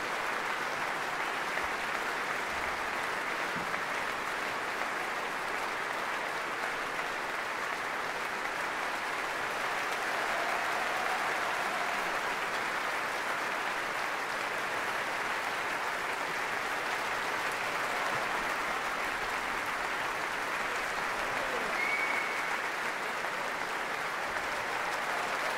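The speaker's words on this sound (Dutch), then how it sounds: "En veel bijval voor dat geweldige Groot Omroepkoor." A concert-hall audience gives sustained, dense applause for the Groot Omroepkoor radio choir after a Beethoven Ninth Symphony performance, an even wash of many hands clapping throughout with no pauses.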